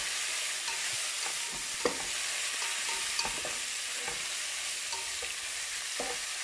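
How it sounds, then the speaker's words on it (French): Food simmering and sizzling in a pan after a splash of water is added, before rice goes in, with a steady bright hiss throughout and occasional soft clicks of a utensil; no one speaks. "je vais rajouter un petit peu d'eau pour laisser ça mijoter quelques secondes"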